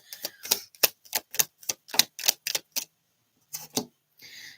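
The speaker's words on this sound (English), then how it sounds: "I've been shuffling the shit out of this deck" A tarot deck is shuffled in a rapid run of sharp, papery riffling clicks, followed by a short pause, a couple more snaps and a soft shuffle, all close up with no talking.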